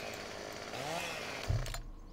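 A chainsaw runs in Farming Simulator 17, a steady buzzing engine drone with a brief revving surge near the end before cutting off.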